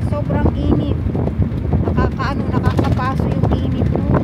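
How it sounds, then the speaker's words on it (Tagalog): Steady wind rushes outdoors on a fair, breezy day, a continuous blustery roar buffeting the microphone, with voices talking over it. "Mas maganda yung weather today kasi may hangin"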